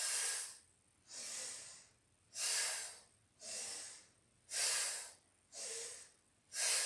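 Rhythmic, forceful breaths during a seated yoga twist, about seven hissing inhales and exhales in steady alternation, close and breathy with no talking.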